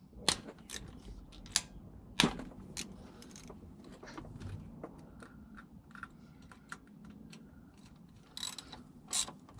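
Ratchet clicking as bolts come off the SMG cover on a BMW E46 M3 during clutch and flywheel work, with scattered sharp metallic clicks and ticks at moderate distance and no talk.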